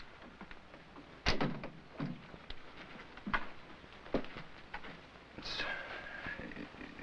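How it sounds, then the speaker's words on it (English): A door bangs shut in a black-and-white horror film, a sharp thud standing out above a noisy background, followed by a few softer knocks and rustles. "Close the door."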